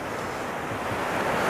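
Sea surf at Anapa beach rushes in a steady broadband wash with some wind noise, unbroken and alone for a brief moment.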